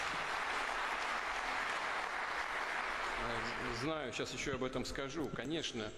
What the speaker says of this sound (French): vous avez applaudi vous-même, et c'est moi qui dois vous applaudir